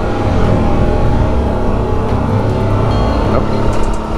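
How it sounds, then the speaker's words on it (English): A truck passes along a city street near a canal, its low engine rumble loud and steady throughout with broadband road noise on top, no talk heard. "that's a truck passing"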